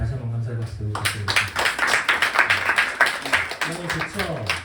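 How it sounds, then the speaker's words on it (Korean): Church congregation at a winter retreat claps in thanks to God, a burst of applause that starts abruptly after a brief spoken lead-in and carries on steadily, with talking over parts of it. "자리를 열게 해주신 우리 하나님께 다시 한번 감사의 박수 부탁드립니다."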